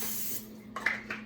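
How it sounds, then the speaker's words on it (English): Cooking spray hisses briefly into hot muffin tins in a kitchen, two short quiet spritzes over a low background hum. "So I spray it with a little spray."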